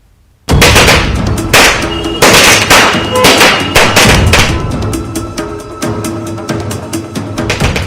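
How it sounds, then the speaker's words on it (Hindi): After a moment of quiet, loud Diwali firecrackers erupt in a rapid, continuous string of sharp bangs and crackles, close and harsh, with no talking. "प्रदेश के कई शहरों में जमकर आतिशबाजी हुई"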